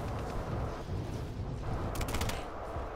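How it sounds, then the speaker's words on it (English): Gunfire rattles through a Call of Duty: Warzone match as a dense, continuous wash of distant shots and battle noise, with a brief sharper crackle near the middle. "I hear gunshots"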